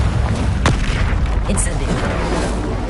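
A Confringo blast spell explodes in the video game Hogwarts Legacy, a sharp burst followed by a loud, boomy rumble that carries through the whole stretch.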